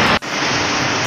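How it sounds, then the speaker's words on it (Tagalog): Heavy rain pours steadily during an outdoor wedding prenuptial photoshoot, a loud dense broadband hiss that drops out for a split second near the start, then continues without talk. "Grabe ang ulan"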